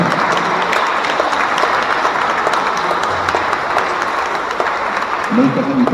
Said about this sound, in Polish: gorące brawa również dla nich